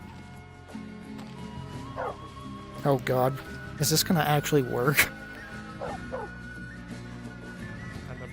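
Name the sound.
dog barking in the video game Skyrim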